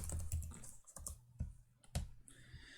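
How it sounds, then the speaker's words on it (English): Typing on a computer keyboard while setting up a parametric RC plane wheel and hub spreadsheet in FreeCAD: a few quick bursts of close clicks over a quiet room, with no talking. "I'm just going to type those in."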